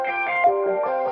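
Fast tapped notes on a heavy distorted electric guitar sound through an organ-impulse convolver effect and a step filter, giving a sustained, organ-like shimmering tone with rapid note changes, loud and alone.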